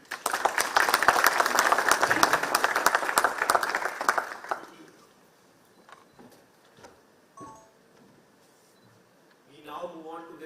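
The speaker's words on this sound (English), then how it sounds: "I want to applaud you. Please give them a big hand." An audience at a defence forum on armed forces claps loudly for about four seconds, the applause fading out abruptly before a few scattered sounds and brief voices take over.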